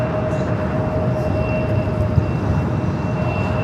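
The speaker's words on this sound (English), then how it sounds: "Korean Air Flight 17, the 747-8 Intercontinental, slowly but surely making its way over to the gates of Tom Bradley." A Korean Air Boeing 747-8 Intercontinental taxis slowly toward the Tom Bradley gates at LAX, a steady broadband jet engine rumble with a faint high whine, continuous and moderately distant throughout.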